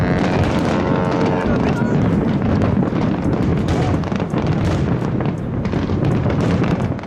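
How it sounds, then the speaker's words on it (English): Rapid bursts of New Year's Eve fireworks over a city port crack and boom in quick succession, loud and overlapping, with wind buffeting the microphone throughout. "fireworks display."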